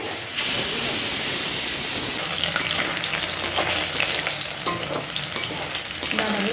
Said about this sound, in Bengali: ভাজা ভাজা হয়ে গেছে